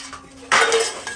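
Metal dishes and utensils clatter in a sudden burst, a bright ringing clash of pots and cutlery that jangles for a moment before fading, heard up close after a quiet lead-in.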